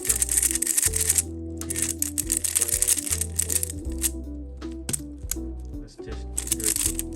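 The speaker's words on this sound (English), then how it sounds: "the clicky noise might be annoying. It's kind of loud" A YJ YuLong 3x3 v2 magnetic clicky UV puzzle cube gives quick, fairly loud clicks and rattles as it is turned, over steady background music, with one brief spoken word.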